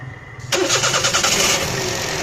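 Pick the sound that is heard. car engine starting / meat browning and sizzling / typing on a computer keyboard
car engine starting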